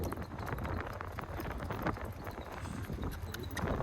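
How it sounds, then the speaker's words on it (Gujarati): Steady clip-clop of horse hooves, a quick repeating rhythm that continues throughout, fairly close, over outdoor background noise. "વાહ ઘોડો ચંદ્રદીપ આવે છે"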